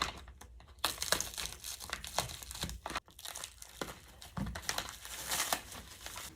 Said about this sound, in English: Carefully remove the shrink wrap from the outside of your packaging.